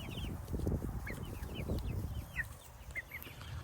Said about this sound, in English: The ex-wife done let the chickens out and they're following me around.